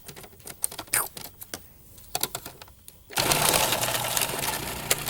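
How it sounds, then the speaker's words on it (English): A food processor grating onion starts up partway through, a loud steady whirring and grinding that follows a stretch of kitchen clatter and light knocks, and it runs continuously to the end. "But the food processor really does make it a breeze"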